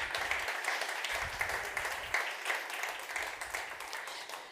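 An audience at a climate change governance conference in the Dolomites claps for several seconds, moderately distant, with the applause swelling and easing in waves.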